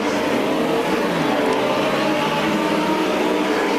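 Legend race cars roar around a speedway oval in a steady, continuous engine drone, several machines running close together at racing speed with no voices over them.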